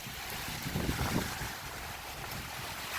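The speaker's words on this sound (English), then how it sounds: "But it's a pretty bad wind right here." Strong wind blows during Hurricane Idalia, a steady broadband rush with gusts buffeting the microphone, loud and continuous with no voices.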